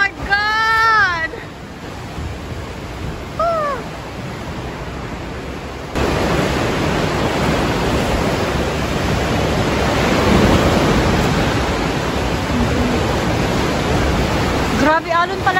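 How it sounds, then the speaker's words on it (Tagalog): Rough sea churns around a boat off Montenegro, a loud steady wash of wave and wind noise filling most of the stretch, with brief excited voices at the start and end. "Grabe, alon pala talaga dito guys."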